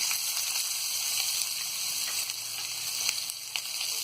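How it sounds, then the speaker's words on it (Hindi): Steady crackling sizzle of chopped onions frying in hot oil in a pan, close and continuous, with occasional pops and stirring scrapes and no voices. "अब इसी में हम ये कटी हुई प्याज को भी डाल देंगे"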